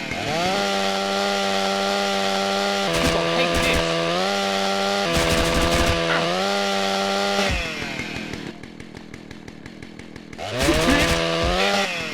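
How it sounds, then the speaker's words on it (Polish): A chainsaw in GTA San Andreas drones loudly and steadily, revving in a few sharp surges, dropping briefly to a lower idle, then roaring back up near the end. "O cholera, piła też nie daje sobie rady."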